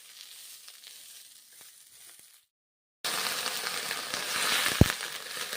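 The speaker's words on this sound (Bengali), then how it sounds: "ভেজে নিচ্ছি।" Peas and drumstick leaves frying in a pan, a quiet sizzle that cuts out briefly, then returns louder and more crackly, with a single sharp tap near the end.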